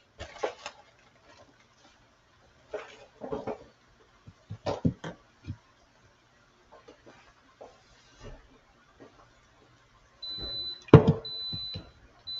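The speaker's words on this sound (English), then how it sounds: "my alarm just went off for my couscous" Scattered quiet clicks and clatter in a kitchen, then a high electronic kitchen timer beeping starts near the end, repeating in short bursts.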